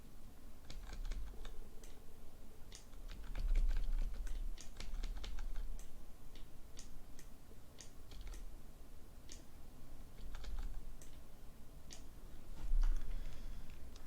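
Computer keyboard keys are tapped in irregular bursts of quick, close clicks while editing in Photoshop, with short pauses between presses over a low background hum.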